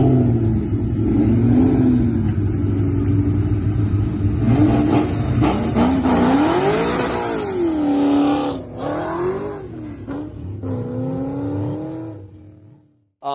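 Ford Mustang SN95 Cobra V8 with long-tube headers, BBK X-pipe and polished Bassani mufflers, revving loud and close in repeated rising and falling sweeps before cutting off abruptly at the end.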